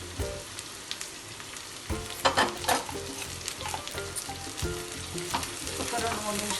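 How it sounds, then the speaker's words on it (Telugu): Ivy gourd (dondakaya) fries in oil with onion and curry leaves, a loud close sizzle crackling steadily, broken by repeated scrapes and clacks of a spatula stirring the pan, with no voices. "ఒక 2-3 నిమిషాలు ఫ్రై చేద్దాం"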